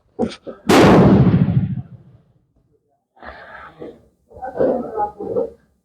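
A single heavy-recoil gunshot cracks loudly near the start and rings out in a fading tail, followed after a pause by people talking nearby.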